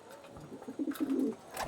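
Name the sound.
Ghiyapatti pigeon cooing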